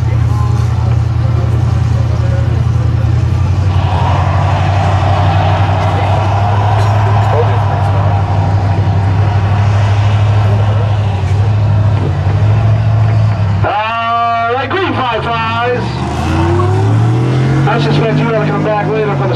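Pickup trucks roar down a drag strip at a Class B stock spectator drag event at Oxford, their engines droning loud and close, then a sharp rising whine as one passes near, with an announcer talking over it.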